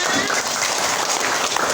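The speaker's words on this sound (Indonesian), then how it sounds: "itu tepuk tangan untuk Tania" Classroom applause as students clap for a classmate who answered a question, a dense steady patter of many hands lasting under two seconds.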